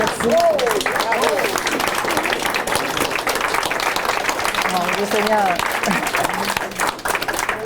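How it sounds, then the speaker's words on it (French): A seated audience rises to applaud two speakers at an event on ageism and elder abuse, steady clapping filling the room throughout with a voice speaking briefly over it near the start. "c'est de se lever debout et de les applaudir"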